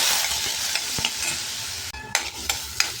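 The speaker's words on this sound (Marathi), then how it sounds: "भगर आहे मिरच्या घालूया आणि ती भगर तुपात छान परतून घेऊ" Bhagar, barnyard millet, with green chillies roasting in ghee in a pan, a steady close sizzle broken by several sharp spatula scrapes and stirring knocks, with no talk.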